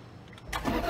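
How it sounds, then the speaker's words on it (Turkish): A car engine starts up in the Car Dealership Simulator game: a quiet lead-in, then an abrupt broadband crank catches and settles into a rising mid-range run, heard alone and close. "Motoru çalıştırdık."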